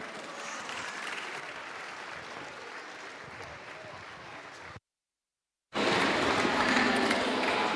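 Steady applause from the audience at a live choir concert in Ollolai, Sardinia, honouring two singers. The clapping is dense and even, breaks off into a second of silence, then resumes just as full.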